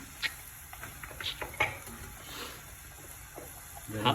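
Oil in a cooking pan, with quiet bubbling and small scattered spatters and pops, faint and intermittent under people talking nearby.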